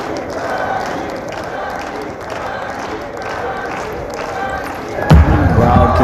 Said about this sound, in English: Crowd continues to cheer.